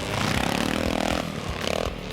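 A Matchless 600cc single-cylinder motorcycle engine with an open exhaust drones loudly and close, its rough, throbbing exhaust rising and falling with revs in short bursts.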